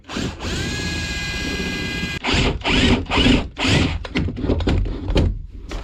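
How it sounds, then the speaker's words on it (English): Power drill boring through a thermalite block wall while a plumber adds a radiator: a steady high whine for about two seconds, then loud bursts of grinding and chattering as the bit bites, close and dominant. "We'll drill through this wall as flat as we can. It's only thermalite anyway, so it's like basically paper we're drilling through."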